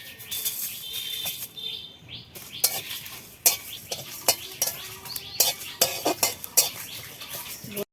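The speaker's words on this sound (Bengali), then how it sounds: "শুকনো লঙ্কা জিরা ধনে আর নিয়েছি কয়েকটা মেথি আর এই যে মৌরি এগুলো এখন ভেজে নেব" Dry red chillies, cumin, coriander seeds, fenugreek and fennel dry-fried and stirred in a pan for mango pickle, with repeated sharp scrapes and clinks of a spatula against metal over a light sizzle, close and loud.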